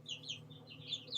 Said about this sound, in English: he is a rooster, so we can't keep him